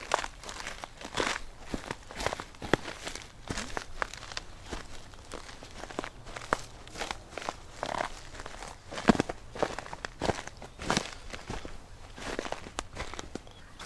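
Footsteps crunching and crinkling over dry plant stalks laid on a garden pathway, a steady run of close, crisp snaps and rustles with no voices.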